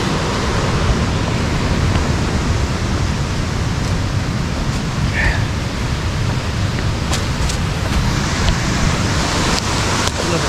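A big waterfall spills into a naturally formed pool, with a brook flowing nearby. The water makes a steady, loud, broad rushing roar with no voices.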